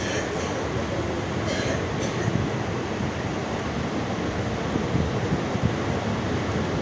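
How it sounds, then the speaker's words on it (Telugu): A passenger train pulls out of Berhampur and runs along the rails, giving a steady loud rumble and rushing noise throughout with no clear talk. "నిరాకరపూర్ నుండి వెళ్ళిపోయింది మా ట్రైన్."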